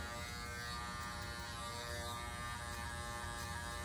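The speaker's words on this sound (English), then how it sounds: "I'm really letting the clipper do all the work." Electric hair clippers buzz steadily and close during a skin fade haircut, a constant even drone with no breaks or talk.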